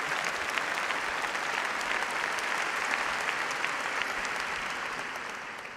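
An audience at a university postgraduate graduation ceremony applauds graduates from the Faculty of Medicine. The applause is dense and sustained, a steady roar of many hands clapping throughout that eases slightly toward the end.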